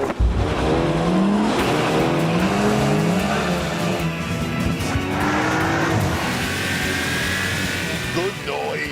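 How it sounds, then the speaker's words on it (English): Golf GTI launching in a straight-line drag race, its engine rising through gears with a sustained loud roar, tire noise and wind, heard up close throughout. "I then line them up for a simple straight-line drag race."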